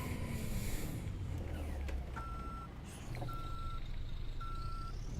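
Reversing beeps from a Volvo FH truck in Euro Truck Simulator 2 sound in three evenly spaced bursts over a steady loud engine rumble. No one speaks.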